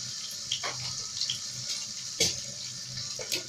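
Tap water runs into a kitchen sink during washing, a soft continuous hiss and splash broken by a few sharp clinks and knocks, fairly quiet and close.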